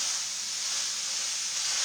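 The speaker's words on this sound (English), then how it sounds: "I'm just going to dump this in it like this and let it be frying up." Chili ingredients frying in a pot, giving a steady, continuous sizzle and hiss that stays even and fairly loud throughout, with no talking.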